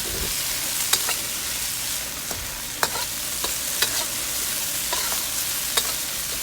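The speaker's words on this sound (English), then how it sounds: "I continue to stir around, and this is going to be done here in the next minute or two." Double-cooked pork belly sizzles hard in a hot pan during a stir-fry, with a loud continuous hiss broken by sharp, irregular clacks of a utensil stirring and scraping.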